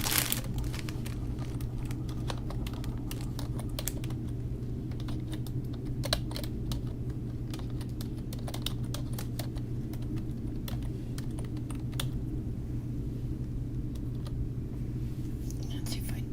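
Someone types on a computer keyboard entering a password, a steady run of quick clicking keystrokes close by, with soft whispered speech and faint rustling underneath.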